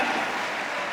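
Brief burst of steady applause for Jesus from a church congregation, dense and even clapping filling the whole moment with no voices on top.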